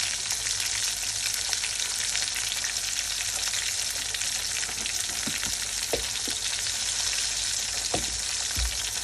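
Curry leaves and cumin seeds frying in hot oil, a steady close sizzle with occasional sharp pops and a few soft stirring knocks.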